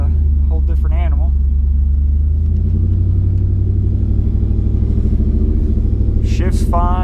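A 650+ wheel-horsepower Ford SVT Lightning pickup truck with a 4-speed transmission rumbles along in a loud, deep, steady cruise, the low throb building slightly under load, with someone talking over it throughout.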